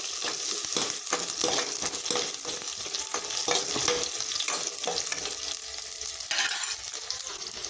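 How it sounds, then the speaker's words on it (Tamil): Onions with curry leaves and slit green chilies sizzling and frying in a pan for a dry fish kulambu, a steady close hiss broken by irregular stirring scrapes, with no voices. "இப்போ வெங்காயம் நல்லா வதங்கிடுச்சு"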